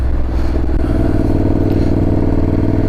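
Motorcycle engine fitted with an aftermarket dual-tip exhaust, running with a steady low, throbbing rumble that holds close and loud throughout, with no talk.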